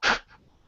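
One sharp sneeze bursts out during a late-night Transformers hangout podcast, loud at first and then fading into a faint breathy tail.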